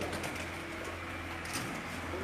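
Pigeons cooing softly and steadily at a pigeon-flying tournament, blended into a constant outdoor wash of background noise with no clear talk.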